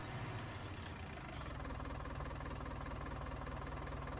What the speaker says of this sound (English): those old Deers, those 40 series Deers do make a massive noise